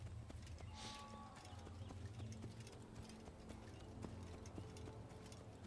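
Horse hooves clip-clopping steadily at a walking pace while riding toward Damascus in Assassin's Creed, a regular rhythmic patter over quiet ambient game sound.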